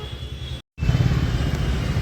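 Road traffic stuck in a jam of cars and motorcycles, close engine rumble and idling throughout, broken by a brief gap of silence near the start.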